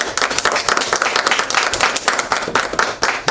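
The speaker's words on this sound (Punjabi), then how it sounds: "ਬਾਕੀ ਸਾਰੇ ਤਾੜੀਆਂ ਮਾਰ ਦਿਓ" An audience claps steadily and loudly at a ceremony where a car key is handed over as a gift to a bride-to-be, a dense burst of applause with no talking.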